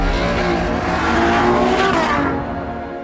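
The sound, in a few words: Ferrari car engine driving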